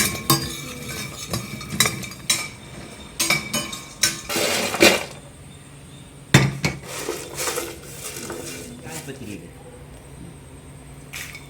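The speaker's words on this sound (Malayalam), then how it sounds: "മഞ്ഞൾ കൊട്ടിക്കുക ചുക്ക് പൊട്ടിക്കും തക്കോലം പൊട്ടിക്കും" Hard clanking and pounding in bursts as dry turmeric, dry ginger and star anise are crushed in a metal or stone vessel for garam masala, with kitchen clatter and talking in between.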